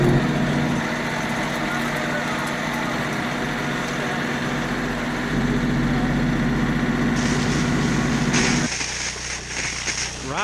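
Tractor engine running steadily while crossing a field, a constant low rumble with a droning hum that shifts and thins near the end, with someone talking over it.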